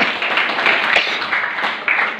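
A group claps in dense, steady applause, close and even throughout, with a few sharper claps standing out.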